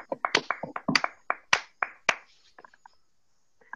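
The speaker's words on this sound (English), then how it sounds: "Ladies and gentlemen, please join me in a round of applause for John Kay." A small audience applauds John Kay with a burst of sharp, scattered handclaps that thin out to a few last claps before fading to silence.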